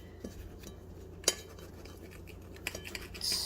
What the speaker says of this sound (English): what I'm going to do is I'm going to take each slice of bread and cut it diagonally.